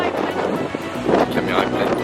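Wind gusts rush and buffet the microphone in a steady blustery roar outdoors in Spain, with a voice speaking in French underneath.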